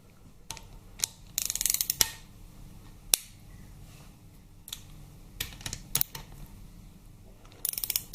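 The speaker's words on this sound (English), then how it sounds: "so I'll just grab my torque wrench, which is still set up. Just give them a nip up first on all." A torque wrench snugs bolts on a Harley-Davidson Twin Cam 88 engine, giving quiet scattered ratcheting clicks and sharp metallic ticks at irregular intervals against a low background.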